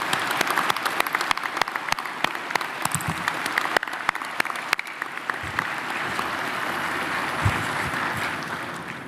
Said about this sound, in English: Let's give them, all the family members, a round of applause to show our appreciation